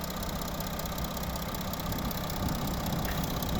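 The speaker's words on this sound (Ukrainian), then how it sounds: "Отак працює двигун." A 2019 Volkswagen Touareg 3.0 TDI diesel engine idles steadily and evenly throughout, a constant low rumble up close with no voices.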